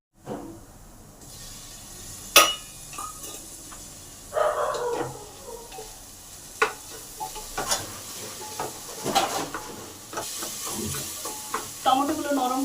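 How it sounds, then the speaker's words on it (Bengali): Chopped tomatoes drop into a pan of fried onions, setting off a loud burst of sizzling that continues with stirring scrapes and clinks, and a dog barks faintly in the background. "এই সময় টমেটোগুলো কাটা আছে সেইগুলো দিয়ে দিলাম।"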